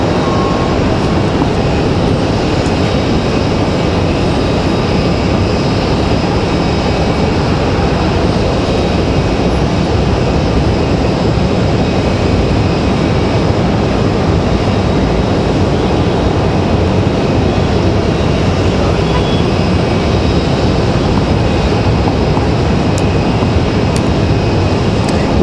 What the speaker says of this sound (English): Air France making their turn at 777